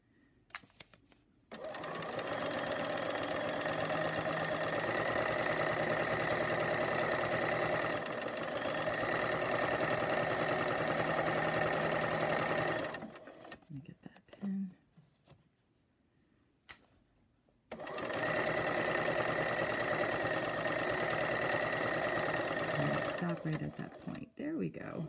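A sewing machine runs steadily while stitching the first seam of a kite quilt block, two long continuous bursts of whirring motor hum separated by a short pause with faint handling sounds.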